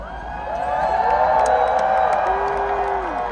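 A large Coachella festival crowd murmurs and calls out after Frank Ocean leaves the stage, a broad, sustained wash of distant voices with scattered whoops and shouts.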